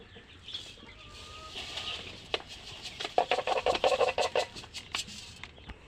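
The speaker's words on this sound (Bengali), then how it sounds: "এটা হচ্ছে করকনাথ মুরগি।" Kadaknath chickens being fed cluck and squawk in a rapid burst of calls that builds midway, mixed with wing flapping and scratching close by.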